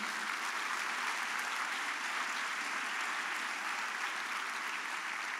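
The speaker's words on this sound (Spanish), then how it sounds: "Démosle un aplauso de alabanza." Church congregation giving sustained applause of praise, a dense steady wash of many hands clapping that stays even and full throughout.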